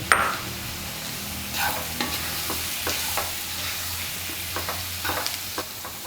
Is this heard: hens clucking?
no